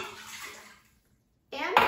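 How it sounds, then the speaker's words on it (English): A cup of water is poured into an Instant Pot, a brief close splash and gurgle, then silence, then a second burst of pouring. "And I'm going to add a cup of water."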